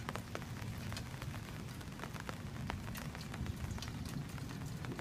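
Steady rain patters on a black auto-open umbrella, a dense, even drumming with close crackling drops and no voices.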